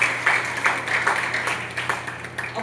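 An audience claps at a Hindi-language RCM business motivation talk, a short burst of scattered, moderately loud hand claps running throughout.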